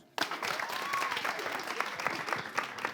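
Applause bursts out suddenly from a crowd at a televised talent-show finale debriefing and holds steady and fairly loud, with a faint whistle and scattered voices inside it.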